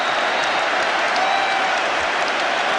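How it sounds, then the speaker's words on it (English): Rugby stadium crowd applauding and cheering a try at a World Cup semi-final between France and the All Blacks, a dense, continuous roar of distant clapping with no breaks. "Claude Gord comes back to milk the applause."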